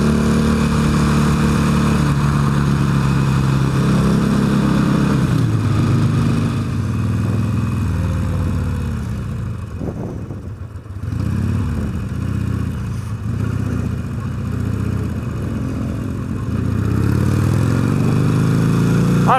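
A motorcycle riding through Chicago traffic, its engine droning loud and close throughout, with revs rising and falling and a brief dip in the middle.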